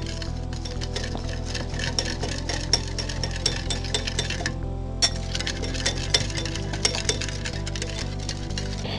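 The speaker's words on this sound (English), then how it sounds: "Once you have that all in a bowl, whisk it together thoroughly." Rapid whisking of ingredients for tofu nuggets in a bowl: a close, busy stream of metallic clinks and taps against the bowl, with a brief pause midway before the steady scraping rhythm resumes.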